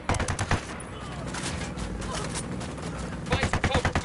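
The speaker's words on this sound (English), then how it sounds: "I'm opening fire." Heavy bursts of automatic gunfire in the video game Ghost Recon, set in Santa Blanca, crackling loudly at the start and again near the end, with a voice talking in between.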